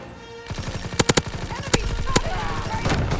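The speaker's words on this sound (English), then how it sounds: "Wow, that's just a shotgun." Gunfire in the game Call of Duty: WWII, including shotgun blasts, heard as a cluster of sharp loud shots followed by further bursts and rapid firing, with game noise between them.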